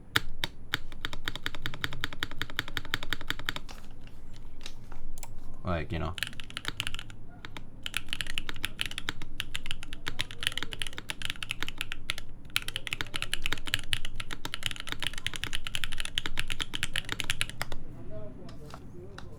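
Rapid clacky keystrokes on a SINGAKBD Jaguar v2 prototype mechanical keyboard, with distinct downstroke and upstroke sounds, go on steadily and close up, with a short pause partway through and a voice briefly speaking.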